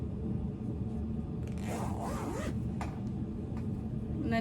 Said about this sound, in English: And then zip it back up.